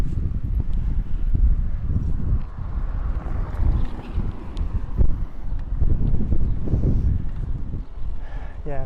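Strong wind buffets the microphone while someone cycles outdoors on a very windy day, a constant low roaring rumble with gusty swells throughout.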